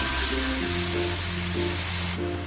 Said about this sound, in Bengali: আমি যে আদা রসুন আর কাঁচা লঙ্কার পেস্টটা করেছিলাম সেটা দিয়ে দিলাম একটু ভালো করে কষিয়ে নেব